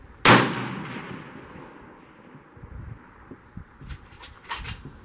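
A long-range rifle fired at a 1000-yard target on a windy range: one sharp, loud crack with a long rolling decay, followed by a few fainter knocks and thumps, and no talking.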